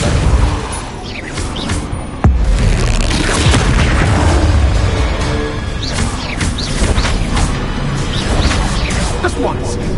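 A loud booming force-spell impact from the Hogwarts Legacy video game, a heavy thud near the start followed by continuing rumbling combat effects, with voices mixed in.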